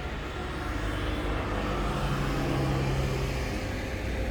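Steady car traffic noise from a nearby road beside an abandoned castle-style love hotel in Matsuyama, Japan, a continuous broadband rumble and hiss that stays loud and even throughout, with no talk.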